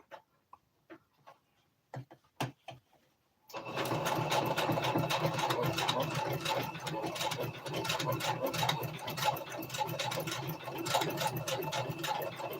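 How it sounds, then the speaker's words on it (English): A sewing machine zigzag stitches fabric for a twist turban hat, running in a steady fast mechanical whir after a few preceding handling clicks and taps, close and loud. "I'm going to flip it over and zigzag on this side"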